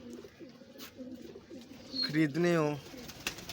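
Pigeons of various breeds coo in a loft, a few soft rolling calls rising over someone talking steadily nearby.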